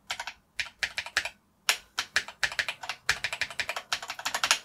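Rapid bursts of typing on an old Acorn Electron home computer keyboard under restoration, crisp close-up key clacks in quick rhythmic runs separated by short pauses.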